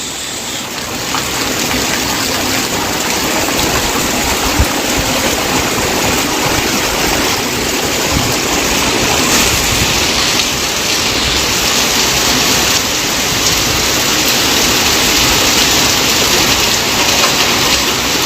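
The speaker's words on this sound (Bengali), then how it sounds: "একদম বৃষ্টি ভালো রকম নেমেছে এই মুহূর্তে" Steady heavy rainfall in Arambagh, a broad unbroken wash of water noise close by, with a single faint knock early on and no speech throughout.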